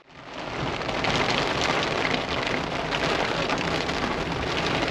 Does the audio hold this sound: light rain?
yes